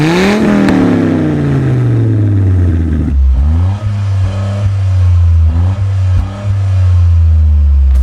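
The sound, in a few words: Toyota GR Corolla 3-cylinder turbo engine revving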